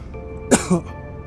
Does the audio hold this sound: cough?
yes